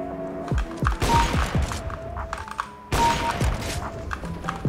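Shotgun blasts in a first-person shooter game, two heavy booming volleys amid scattered in-game gunfire and clunky thuds, loud and punchy.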